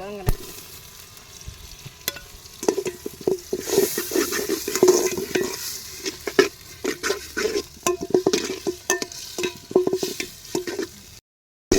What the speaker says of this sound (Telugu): చూడండి ఫ్రెండ్స్, టమాటాలు అయితే వేసుకుంటున్నాను.